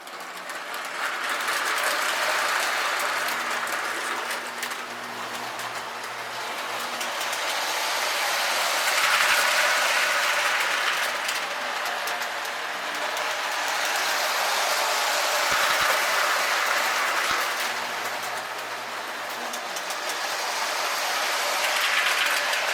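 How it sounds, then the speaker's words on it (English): A K-Line Santa's Yuletide Express model train with an S2 diesel switcher runs steadily on its track, giving off a continuous clattering, whirring rumble that swells and fades as it circles near and away. "let's just watch this this Christmas train here"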